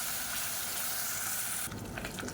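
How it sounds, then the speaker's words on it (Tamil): Loud hissing sizzle of masala paste frying in a hot pan over a medium flame, close and continuous, briefly interrupted by stirring scrapes near the end. "சேர்த்துட்டு மீடியமான ஃப்ளேமில் வதக்கி விட்டுக்கலாம்."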